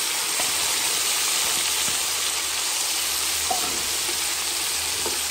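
Tomato being pushed around a hot pan for a chicken and chayote curry, a steady loud sizzle with faint scraping stirs throughout, no talking.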